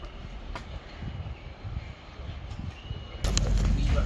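Inside a moving train, a low rumbling ride with rhythmic rail noise and occasional clanks, turning louder and harsher near the end as the carriage noise swells.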